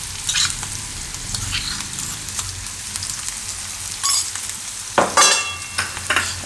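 Onion, pounded ginger, green chili and garlic fry in hot oil in a pan for besan bhurji, with a steady sizzle and a few sharp scraping stirs of a spoon, close and alone.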